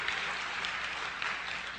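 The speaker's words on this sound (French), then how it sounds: "on peut l'applaudir" Brief, steady audience applause, a dense patter of many hands clapping at moderate volume with no other sound.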